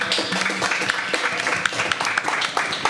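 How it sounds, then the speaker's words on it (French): An audience claps and applauds for a guest at a French entertainment show. The clapping is dense and steady for about three seconds, with a few brief voices mixed in. "On l'applaudit bien fort."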